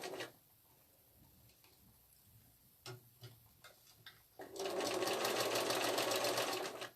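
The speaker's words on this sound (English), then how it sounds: "So I'm sewing just inside that folded edge as a top stitch." Sewing machine top stitching along the folded edge of fabric, a few scattered clicks and taps, then a steady fast rattling stitch run for the last couple of seconds, fairly close.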